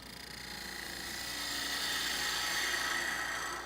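A wood lathe spins a suction-fit lidded box while a tool shear scrapes the surface, giving a continuous whirring, hissing drone that swells slightly and holds steady at close range with no talk.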